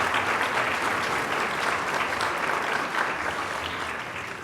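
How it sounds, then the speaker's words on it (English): An audience at an awards event claps steadily, a dense, continuous round of applause that fades slightly toward the end. "So a big round of applause to all of you for what you are doing in all"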